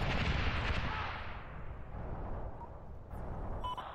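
Artillery fire in a Medal of Honor video game: a deep, rumbling boom that rolls away and fades into a low echoing tail, followed by faint metallic clicks near the end.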